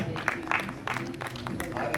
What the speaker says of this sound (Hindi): एक बार जोरदार तालियां बंसल सर के लिए।